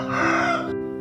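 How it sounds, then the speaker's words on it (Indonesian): A rooster crows once, loud and close: a single sustained, tonal call that rises, holds and then cuts off. "Kemudian ayam berkokok."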